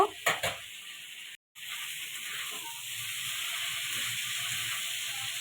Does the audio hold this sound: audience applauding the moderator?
no